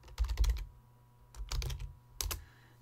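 Three short bursts of typing on a computer keyboard while laying out magazine article text in design software, each flurry of quick clacks lasting about half a second, close and fairly quiet with pauses between and no talk.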